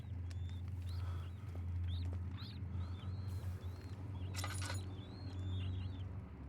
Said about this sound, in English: I can hear the squeaky of the rats,